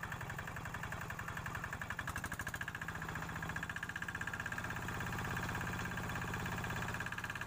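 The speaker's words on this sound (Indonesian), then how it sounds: "mesinnya dinyalakan lagi karena yang tadi dimatikan untuk menyetel ulang ukurannya" Woodworking machine running again after being switched off for adjustment while building a wooden rabbit cage, a steady mid-pitched motor drone with a fast pulsing rhythm, constant and moderately loud throughout.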